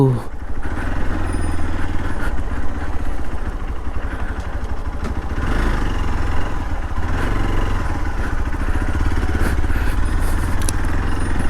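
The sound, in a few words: motorcycle riding on road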